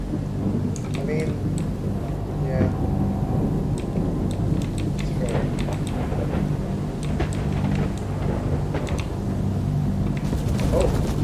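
In the video game The Cycle, a thunderstorm with steady rain rumbles throughout, with sharp cracks scattered over a dense low roar and occasional voices in the background.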